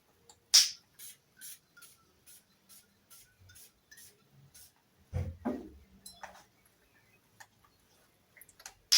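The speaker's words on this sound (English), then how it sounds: "I'm going to spray CK1 shot first" A sharp spritz from a perfume spray bottle, then quiet ticking and a few light clicks and handling noises, with another spritz at the end.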